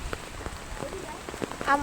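Rain falls outdoors during Cyclone Remal, a steady close patter of drops on surfaces with scattered heavier splats, and faint voices come and go beneath it.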